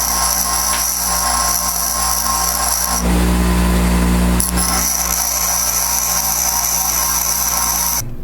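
A bracket is welded with a loud, steady high buzz and hiss that holds for about eight seconds, with one brief louder burst partway through.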